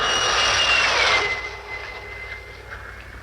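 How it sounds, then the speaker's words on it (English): A speeding jet fighter roars past overhead, a loud broad rushing whine with a high tone that fades as it moves away. "even to the piercing eye of radar and the speeding jet fighters"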